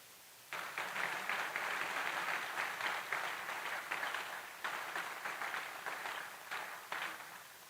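A crowd applauds steadily for several seconds at a high school senior honors assembly, a dense wash of clapping that starts abruptly and tapers slightly toward the end, heard from a distance.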